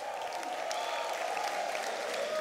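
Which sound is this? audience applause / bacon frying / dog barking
audience applause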